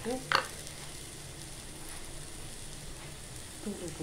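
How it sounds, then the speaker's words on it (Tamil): Okra (ladies' finger) sautéing in a pan gives a steady, soft sizzle and hiss that runs through the whole stretch, with a brief clatter near the start and a few light stirring knocks toward the end. "பார்த்தீங்களா எப்படி வதங்குது? பார்த்தீங்களா? நல்லா வதக்கிடுங்க."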